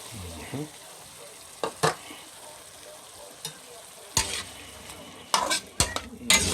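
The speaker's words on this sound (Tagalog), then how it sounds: "Lagyan na natin tong katas nung ulo ng hipon na dinikdik mga guys." Crushed shrimp head juice goes into a sizzling pan of sotanghon guisado sauté, a steady low fry hiss broken by sharp bursts of sizzling and utensil scrapes, with brief talking in the background.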